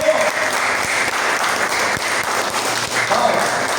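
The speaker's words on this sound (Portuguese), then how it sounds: "Aplauda o Senhor." Church congregation applauding the Lord, a loud, dense and steady burst of clapping that fills the whole span, with faint voices mixed in beneath.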